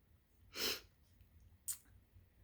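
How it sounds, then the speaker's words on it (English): Two sneezes, a big one followed about a second later by a smaller, sharper one, both close and loud against quiet background noise. "I'm going to sneeze."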